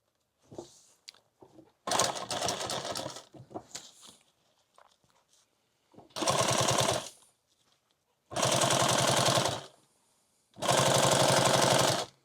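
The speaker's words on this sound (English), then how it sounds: "we're going to fold that over and we're going to sew this basically right here." Sewing machine stitching backpack material, with short bursts and several loud, steady runs of a couple of seconds each, separated by quiet handling noises.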